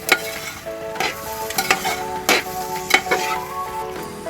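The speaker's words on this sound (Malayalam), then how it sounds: "എല്ലാം കൂടിയിട്ടൊന്ന് ഇളക്കി കൂട്ടുകയാണ്" Chicken biryani masala being stirred in a hot pan, a continuous sizzle punctuated by repeated scraping strokes of a spoon against the metal, close and fairly loud.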